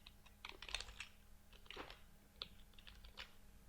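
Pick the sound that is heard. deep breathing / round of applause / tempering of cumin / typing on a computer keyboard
typing on a computer keyboard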